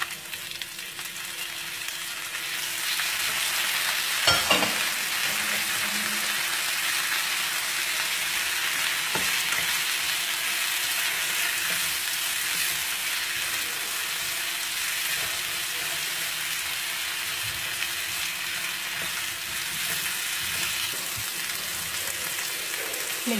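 Pickled mustard greens sizzle steadily in a hot pan while being stir-fried, with occasional clinks of a utensil against the pan throughout.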